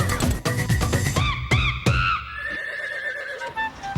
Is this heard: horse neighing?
yes